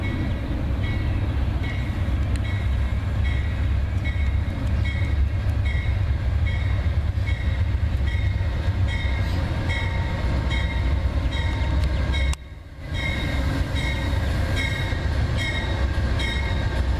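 A short three-car commuter train powered by two locomotives, with engine 43 leading, rumbles steadily past close by, its rolling wheels and car noise continuous and loud throughout, briefly dipping for a moment near the end.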